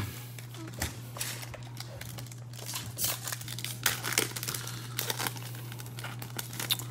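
A box of Absolute football trading cards is opened, giving continuous close crinkling and tearing of cardboard and wrapper with irregular loud crackles over a steady low hum, and no voices.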